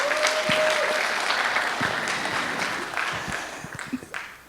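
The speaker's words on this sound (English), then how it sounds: "So let's give yourself a round of applause as well." Applause from an audience at an awards event fills the room, a steady dense patter of many hands that holds for several seconds and then thins out into scattered last claps.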